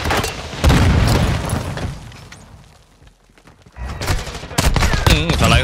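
Sig Sauer P890 pistol gunfire in Call of Duty MW2, loud dense bursts of rapid shots and booms, a quieter gap midway, then more heavy firing toward the end.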